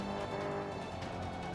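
A car braking in the racing game Forza 5, a steady loud engine and tire roar under hard deceleration, continuous and close throughout the short moment.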